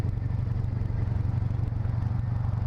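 Deep, steady rumble of Harley-Davidson motorcycle engines running together at a bike night, continuous and fairly close, with no pauses or voices.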